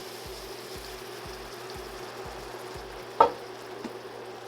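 Shrimp and zucchini sizzle quietly in a pan after cooking wine is added, a soft steady frying hiss under a regular low thumping, with one brief sharp clink.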